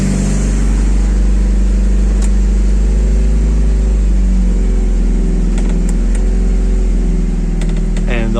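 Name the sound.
Mitsubishi Eclipse 2G car engine running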